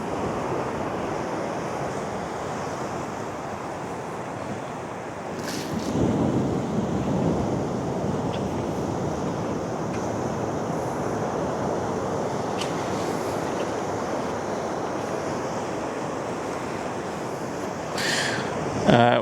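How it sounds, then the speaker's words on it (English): Ocean waves wash ashore at Sele Harbour as the tide comes in, a steady broadband surf roar with wind rushing across the microphone and a louder swell building midway. "Looks like the tide is coming in."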